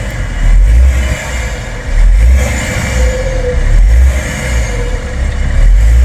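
A BMW E61 530d diesel (218 hp) with a modified intake manifold revs repeatedly while warm, three loud surges rising over a rumbling idle.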